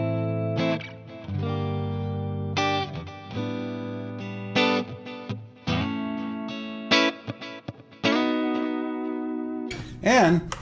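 An electric guitar played through a warm Leo Fender-designed single-coil neck pickup rings out in clean, sustained chords and notes, close and clear, with phrases separated by short pauses.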